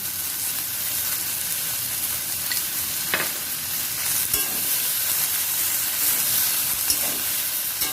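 Malabar spinach with jackfruit seeds stirred in a frying pan, a steady close sizzle with scraping spatula strokes and a few sharper clinks.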